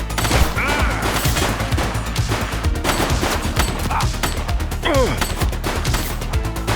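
Gunfire from the video game The Precinct rattles in dense, continuous volleys of rapid shots, loud and close, mixed with sirens and other action noise.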